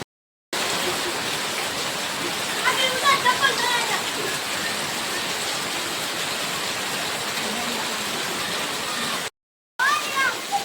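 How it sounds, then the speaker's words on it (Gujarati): Heavy rain pours steadily as a dense, constant hiss that lasts almost the whole stretch, with two brief silent gaps. Faint voices and a few light splashes rise now and then above the downpour. "પૂરું વરસાદ આવી ગયો"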